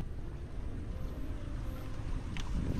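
Steady typhoon wind roars and buffets the microphone at a rural hut in the Philippines, a dense low rumble with gusts swelling slightly toward the end.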